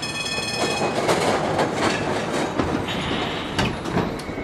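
An early 1920s Sydney tram rolls along steel rails with steady clickety-clack and rumble, and a metallic wheel squeal rises near the end, loud and close with no voices.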